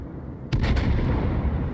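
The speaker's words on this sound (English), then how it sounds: "Fires a volley at it" A sudden booming naval gun volley in the World of Warships game, several heavy blasts fired together with a loud rolling rumble that lingers, no talk.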